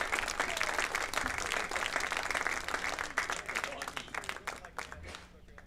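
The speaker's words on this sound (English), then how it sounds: "Another round of applause for Trent Mode." Crowd applause ringing out at a baseball senior ceremony, steady dense clapping that tapers off toward the end, fairly close.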